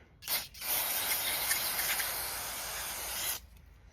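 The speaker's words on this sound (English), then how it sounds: "You can spray in here if you want to" A continuous aerosol spray of cleaner into the carburetor of a 110cc dirt bike hisses close up for about three seconds, preceded by a quick short burst.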